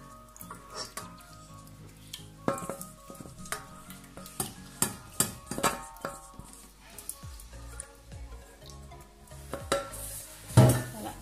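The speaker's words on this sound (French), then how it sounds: "Je vais remuer sans arrêt pour éviter d'avoir des grumeaux" Corn kokobaca being stirred in a pot, a spoon scraping and knocking against the sides in a steady run of strokes, with a faint sizzle underneath and a louder clank near the end.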